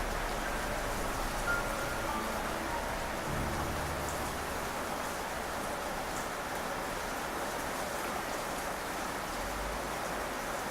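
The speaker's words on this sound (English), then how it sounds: "The rain continued to fall all around him." Steady rain falls all around, a constant dense patter with a low rumbling undertone, even and unbroken throughout with no voices.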